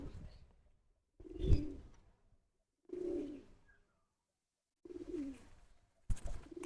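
Pigeons in a garden loft in Narayanganj give several low, throaty coos in separate bursts with short pauses between them, heard close and fairly soft.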